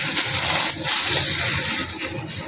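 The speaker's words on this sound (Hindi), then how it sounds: "दो पानी से धो के" Chickpeas are rinsed in water in a home kitchen, giving a sustained sloshing, gushing wash with brief splashy surges, close and fairly loud, with no talking.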